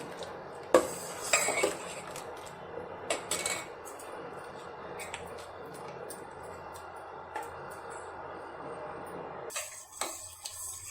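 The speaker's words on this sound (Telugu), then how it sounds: "ఈ పేస్ట్ అంతా పాలల్లో వేసుకోవాలి ఇది కలుపుతూనే ఉండాలన్నమాట లేకపోతే అడుగు అంటుతుంది" A spoon stirs rice paste into boiled milk in a cooking pot, giving irregular metallic clinks and scrapes against the pot over a low background, with no talking.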